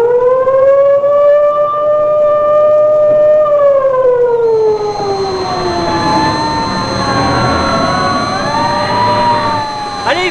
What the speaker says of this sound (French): Tiens, les sirènes, qu'est-ce qui se passe?